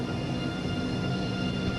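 Steady low rumble of an ICE train engine accelerating in Train Sim World 2, with a faint high hum, continuous and even, no voices.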